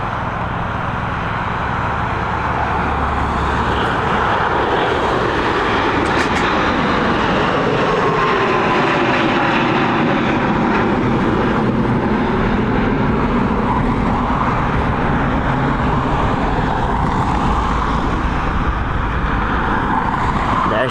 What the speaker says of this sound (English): We've got this Gulfstream now on departure.